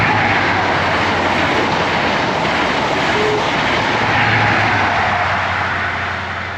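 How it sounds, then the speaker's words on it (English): A train passes a level crossing where the barriers are down and a Royal Enfield Meteor 350 motorcycle waits with its ignition off, a broad steady rumble and rush that swells slightly and then eases toward the end. "here comes a train"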